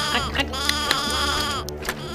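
Goats bleat in a cartoon story about a boy herding goats, several wavering cries overlapping in a dense, continuous chorus over background sound, loud and close throughout.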